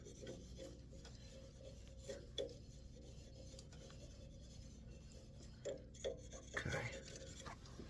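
Wax pressed hard against a walnut shaving-set piece spinning on a wood lathe makes a steady rasping rub, with a few louder scuffs and a short burst near the end. A voice speaks one brief word.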